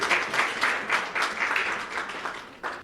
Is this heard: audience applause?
yes